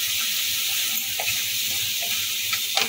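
Spiced potato and paneer masala being sautéed in a pan, a loud continuous frying sizzle with soft intermittent stirring scrapes, close and steady, no talking.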